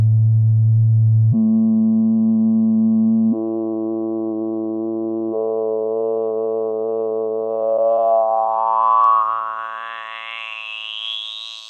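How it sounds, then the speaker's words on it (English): Isolated sine-wave harmonics of a held sung note play as pure, steady electronic tones, stepping upward in pitch one after another and then gliding smoothly into a high, thin whistle that fades at the end. "If I hold a note, I can even isolate out each sine wave for us to hear."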